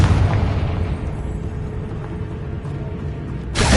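A Confringo spell blast in the video game Hogwarts Legacy: a dense, rumbling explosion fills the clip with a loud, sustained boom and debris-like roar, ending in a fresh burst of noise.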